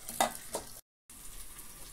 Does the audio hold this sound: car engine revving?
no